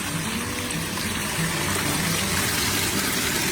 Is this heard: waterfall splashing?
yes